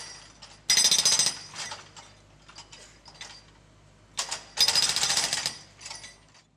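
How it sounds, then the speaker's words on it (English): A digger's hydraulic breaker hammering into a concrete footpath, two loud bursts of rapid pounding separated by quieter clanking and scraping, heard close and with no talk. "The digger uses the breaker to hammer into the concrete footpath."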